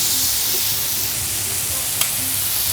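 Bulgogi marinated in gochujang sizzles loudly over a charcoal grill at a Korean barbecue restaurant, a close, steady frying hiss with the soft scrape of meat being stirred and spread, and a faint clack partway through.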